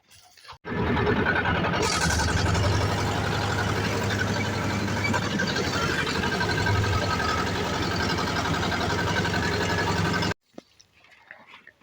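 A T-25 tractor engine runs steadily and loud at close range for about ten seconds with a low, even drone, then cuts off abruptly, leaving near silence.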